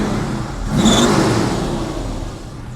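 A classic car's engine idles steadily with the air conditioning running, a close, loud hum that swells briefly in a light rev before settling back.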